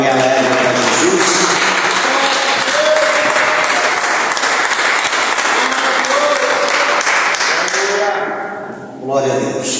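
Church congregation claps loudly and steadily for nearly nine seconds, a dense close wash of applause with voices mixed in, before it fades quickly near the end.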